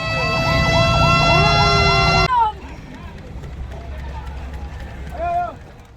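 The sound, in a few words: ambulance siren during parade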